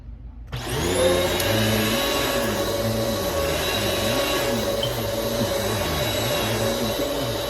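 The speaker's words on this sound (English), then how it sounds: "But first I'm going to go ahead and vacuum everything so we have a clean slate to work on." Vacuum cleaner on carpet that starts up abruptly and then runs close and loud with a strong motor whine, its pitch wavering as it is pushed back and forth.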